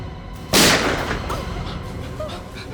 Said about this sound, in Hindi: इस गोली की आवाज को सबने बाहर सुना होगा, सबने।